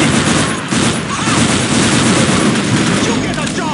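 Dense, continuous automatic gunfire from Unreal Tournament 2004 team deathmatch with the Ballistic Weapons mod, loud and sustained with overlapping bursts and booms, while a voice talks over the fighting.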